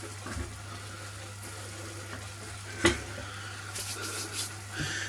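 Frozen crushed garlic, two cloves, stirred in a one-pot chilli over a steady background sizzle, with a few scraping knocks of the spoon against the pot.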